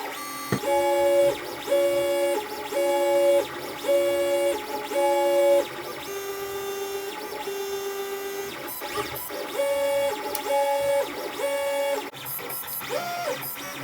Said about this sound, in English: So let's have a go at printing it.